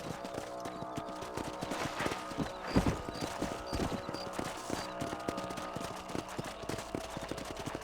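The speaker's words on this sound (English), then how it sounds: "Let's mount up and patrol the rest of the property." Rapid clip-clop of horse hooves at a gallop in Red Dead Redemption, steady and fairly loud, with faint rattling and a few sharper knocks mixed in.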